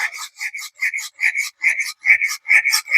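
A camp knife being reprofiled on a sharpening stone, with rhythmic back-and-forth rasping strokes, about a dozen evenly spaced scrapes, close and crisp with nothing else underneath.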